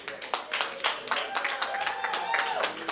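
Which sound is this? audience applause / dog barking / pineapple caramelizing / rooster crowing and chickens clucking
audience applause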